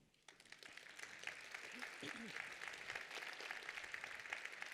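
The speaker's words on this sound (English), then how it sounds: "Please applause to Maria Eriksson." Applause for Maria Eriksson at the opening session of an Interreg Europe conference, a steady wash of clapping from the audience that rises and holds at moderate, fairly distant level, with a brief murmur of voices early on.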